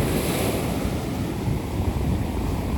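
Sea waves wash onto a clean beach shore, a continuous close surging hiss with wind buffeting the microphone, no speech.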